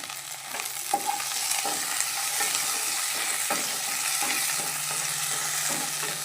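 Curry leaves dropped into hot oil for a prawn and drumstick curry, a loud steady crackling sizzle with stirring scrapes throughout, close and continuous with no talking.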